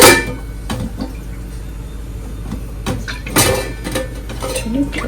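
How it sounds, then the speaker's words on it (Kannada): A cooking pot is set down on a lit gas stove and its lid closed, giving a few clattering metal knocks and clanks up close, with one louder clunk midway, over a steady low hum. "ಪಾತ್ರೆ ಇಟ್ಟಿದ್ದೀನಿ. ಇವಾಗ ಇದನ್ನ ಕ್ಲೋಸ್ ಮಾಡೋಣ."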